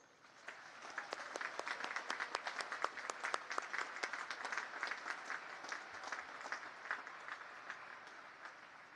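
An audience at the United States Naval Academy Class of 2024 commissioning ceremony gives sustained applause, a dense wash of many clapping hands that builds quickly and then gradually thins toward the end.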